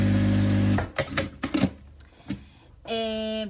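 Sewing machine stitching fabric for a small zippered pouch, with a loud steady motor hum at the start, a few scattered clicks and knocks in between, then another steady whirring run at the end.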